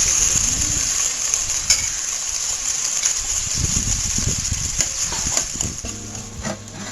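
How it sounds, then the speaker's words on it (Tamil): Chopped onions added to hot oil with bay leaf, cardamom and cinnamon for South Indian ghee rice, giving a steady hiss and crackle with occasional spoon scrapes and clatter close by. "இப்போ வந்து நான் நறுக்கி வச்ச வெங்காயம் சேர்த்துக்கிறேன்."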